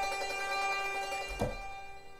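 A Mandolin Guitarophone, a niche novelty stringed instrument, rings out a brief sustained chord with bright layered harmonics, played alone at moderate volume, with a soft low thump partway through.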